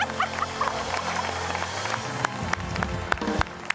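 A studio audience applauds in a TV courtroom show, a dense, steady wash of crowd clapping with scattered sharper claps that carries on throughout.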